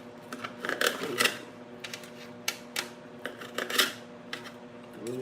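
A knife chops a plum into small pieces on a cutting board, giving a run of sharp, irregular taps and clicks close by, with low kitchen hum beneath and no talking.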